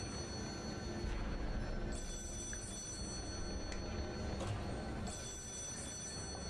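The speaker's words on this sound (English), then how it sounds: "Somebody answer that phone," A telephone bell rings repeatedly in the video game Lies of P, a steady trilling ring that carries on with brief pauses over a low, constant in-game ambience.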